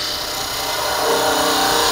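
Wood spinning on a lathe is cut with a spindle gouge while shaping the point of a toy top: a steady, close scraping and shaving hiss that grows slightly louder and rougher halfway through, with no talk.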